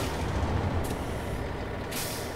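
Heavy truck backing under and coupling to a trailer in the SnowRunner video game, a loud continuous engine rumble with sharp hissing bursts of air release, no talking.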